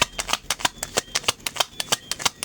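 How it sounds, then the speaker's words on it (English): A deck of tarot cards is shuffled by hand, making a steady series of crisp riffling slaps and flicks, close and fairly loud, with no talking. "Just going to continue shuffling."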